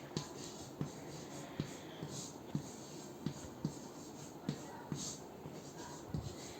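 A pen scratches across paper in short, evenly spaced strokes as someone writes by hand. The strokes are faint and close, with soft clicks between them.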